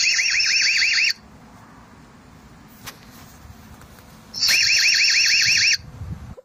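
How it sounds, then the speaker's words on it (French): An EZVIZ CB8 security camera sounds its alarm siren in two loud, warbling electronic bursts, each about a second long, with a quiet pause and faint clicks between them. "En fait, ça, c'est le système d'alarme."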